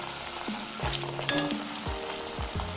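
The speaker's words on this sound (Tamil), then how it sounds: "செஞ்சு வச்ச தட்டையை எண்ணெயில் சேர்த்துருவோம்." Mint thattai dough discs crackle in hot frying oil, a close, steady sizzle broken by soft stirring taps and one sharp clink near the middle.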